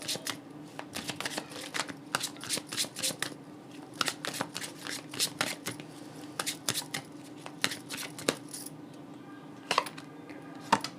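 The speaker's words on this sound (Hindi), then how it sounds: "यहाँ से भी 2 कार्ड लेंगे।" Tarot cards shuffled and drawn at a Hindi reading, a continuous run of close, crisp riffling slaps and flicks in irregular rhythm over a faint steady hum.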